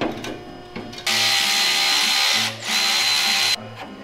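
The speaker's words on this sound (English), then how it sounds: "Might have to drill a bigger hole." Power drill boring a hole for a truck exhaust: the motor whines loudly in two sustained bursts with a brief dip between them, after a few short starts at the beginning, close up and with no talk.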